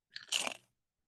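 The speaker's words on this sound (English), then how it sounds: "a very satisfying crunch." A single crisp crunch from biting a thin-cut, jerky-like meat chip, brief and close, followed by silence.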